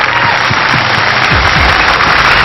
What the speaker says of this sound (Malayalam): രണ്ടുപേർക്കും നന്നായിട്ട് കൈയടിച്ച്.